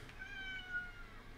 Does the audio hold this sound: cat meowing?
yes